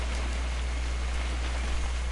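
Steady rain falls in What Remains of Edith Finch, a continuous even hiss of drops on surfaces with no voices over it.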